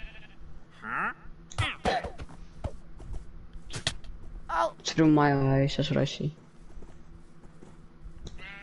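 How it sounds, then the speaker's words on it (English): Sheep bleating in the Minecraft video game, a few close bleats scattered between bursts of someone talking, with one long wavering bleat in the middle. "Why is there two sheep right here?"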